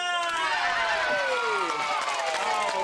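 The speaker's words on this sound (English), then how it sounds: "Give yourself a big cheer." Audience of children and families cheering at a children's TV show, a loud sustained crowd roar with whoops and a bright, singing-like tone throughout.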